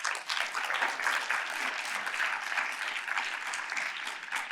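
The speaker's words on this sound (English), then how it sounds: "I guess they deserve a round of applause too." An audience at a biotechnology research event gives a sustained round of applause, steady dense clapping lasting several seconds at moderate distance, with no voices over it.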